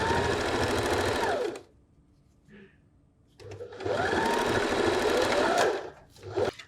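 A sewing machine stitching patchwork fabric squares together in two steady whirring runs split by a short pause, close and loud, with a faint click between bursts.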